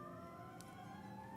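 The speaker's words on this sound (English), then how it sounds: "lot of sirens. Bless those sirens." Emergency vehicle sirens wail steadily outside, faint and distant, a sustained tonal whine with no talk over it.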